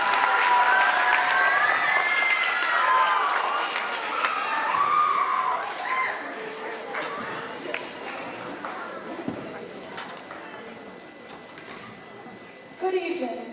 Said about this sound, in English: could you please give a big round of applause for your parents